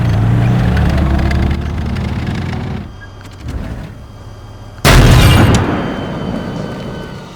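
Tank cannon rounds slam into a metal test cube in the game Teardown, a heavy booming blast at the start, a quieter lull, then a second loud, sharp impact near the end that rings out and fades.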